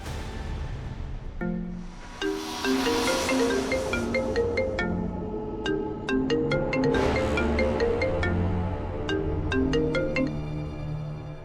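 A phone rings on a call placed to a boss's number, a melodic tone sequence of repeated notes and pauses playing steadily over a low background, unanswered, with no talking.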